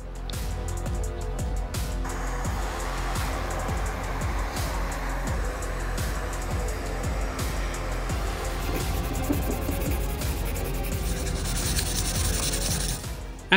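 Steady rasping strokes of a brass joint being sanded smooth after filling, on a handmade clockwork chest, continuous and close with a rhythmic back-and-forth scrub throughout.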